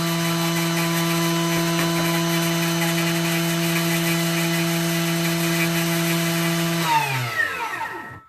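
A food processor whirs at a high steady speed, blending chia pudding with lemon and strawberries. The motor drones loud and even for about seven seconds, then winds down, its pitch sliding off to silence.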